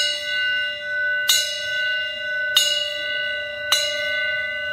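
An antique bronze bell, like an old workplace bell rung to mark the end of a shift, is struck three times at an even pace, each clear metallic strike ringing on with a long sustained tone.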